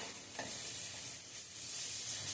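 Ginger and green chilli paste sizzling in hot oil tempering for Maharashtrian masale bhaat, with steady close frying hiss and light stirring throughout, no talk.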